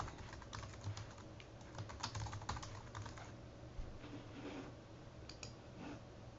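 Password being typed on a computer keyboard, a quick run of light, close key clicks in irregular bursts over a faint background hum, no talking.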